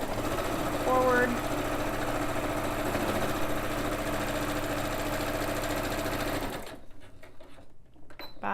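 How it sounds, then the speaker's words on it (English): A sewing machine stitches fabric for a grow bag, its rapid, even mechanical chatter running close and loud for several seconds before stopping abruptly, leaving quieter handling sounds. "Back a couple stitches to help reinforce it."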